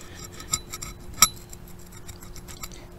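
A glass bottle clinks while an old privy is dug for antique bottles in Eastern North Carolina: one sharp, close clink rings out with a fainter tap just before it, over quiet background.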